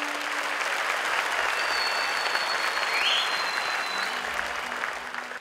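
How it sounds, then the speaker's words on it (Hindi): A stage show audience claps hard and steadily for a performer's entrance, a dense, continuous wash of applause that holds for several seconds before easing off. "स्पेशल गौरी के लिए जोरदार तालियां हो जाए"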